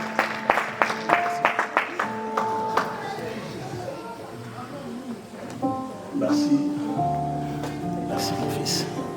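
A church congregation at a thanksgiving service applauding in praise of God, a run of scattered claps at the start under a speaking voice and rising crowd noise, moderately close.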